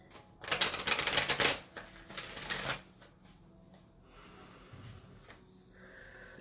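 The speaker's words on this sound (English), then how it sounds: "And then I shuffle the cards here." Tarot cards being riffle-shuffled close up in two quick, crisp bursts, followed by quieter handling and soft rustling as the deck is squared.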